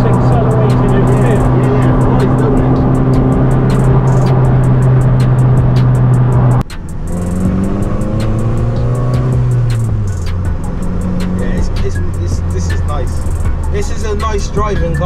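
Raffo Belva rare sports car engine, loud steady drone inside the car, then a gear change and climbing revs as it accelerates, with people talking over it.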